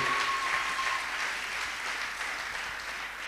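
A church congregation at a French-language worship service claps and cheers steadily, a dense continuous wash of applause with no pauses throughout.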